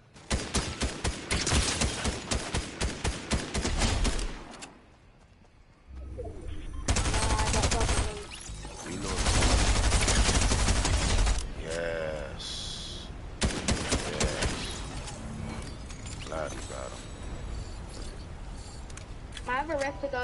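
Bursts of rapid automatic gunfire from a Fortnite match crackle loudly in repeated volleys, with players talking excitedly over and between the shots.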